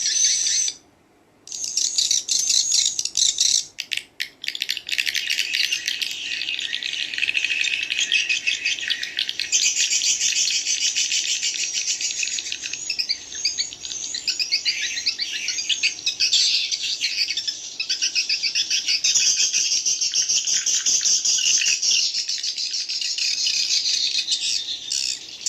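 Swiftlets (burung walet) calling inside a bird house, a dense, continuous chorus of high buzzy chirps and rattles, near and steady, with a brief pause near the start.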